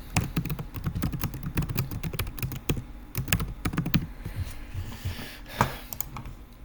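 Fast typing clatters on a computer keyboard, dense irregular key clicks in bursts with brief pauses, close and fairly quiet, with no talking.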